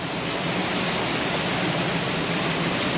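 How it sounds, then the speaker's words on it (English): Heavy rain falling outdoors in Jamaica during a storm, a dense, constant hiss of downpour that stays loud and unbroken for the whole three seconds, with no voices heard. "Raining cats and dogs"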